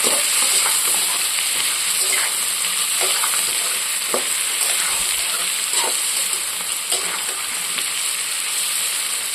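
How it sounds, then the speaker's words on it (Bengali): Coriander leaves with vegetables, including soft eggplant, stirred and fried in a pan for a pomfret fish curry: a steady close sizzle and hiss, broken by repeated light scrapes and clicks of the stirring spoon, with no talking. "এবার আমি সুন্দর করে নাড়াচাড়া করব আর এগুলোকে ভেজে নেব"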